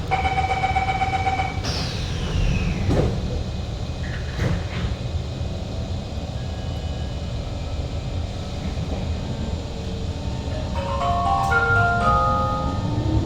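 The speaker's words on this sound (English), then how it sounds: "doors are closing." Rapid warning beeps sound as SMRT Kawasaki C151 train doors close, followed by the rumble of a moving train and a few chiming tones near the end.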